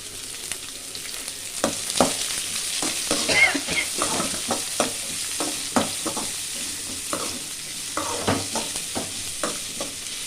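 Sliced onions frying in a pan while being stirred, a steady sizzle beneath repeated scraping and clacking of the spoon against the pan, close up and continuous.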